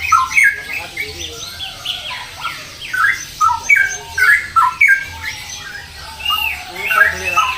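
Straw-headed bulbul (cucak rowo) singing inside a bird shop, a run of loud, bright squawking calls and whistles repeating throughout among other birds, with a low hum beneath.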